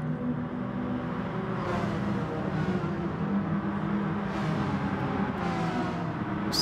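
Race cars in GT Sport, including a Porsche, drone side by side with a steady engine roar, revs rising and falling through gear shifts in a close, continuous hum.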